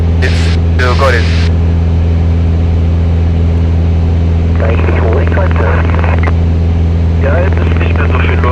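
Inside the cabin of a Cessna 210 light aircraft in flight, a loud, steady engine drone fills the whole clip while voices break in briefly now and then.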